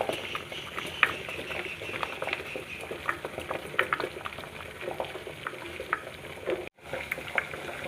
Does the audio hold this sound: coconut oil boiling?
yes